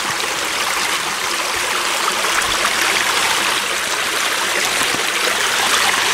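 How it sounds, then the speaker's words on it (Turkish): A creek flows steadily beside someone standing in its bed, where the water runs along only one side. The rushing, babbling sound stays close and constant throughout, with no voices. "Şu anda derenin içindeyiz. Ama su sadece bir tarafından geçti."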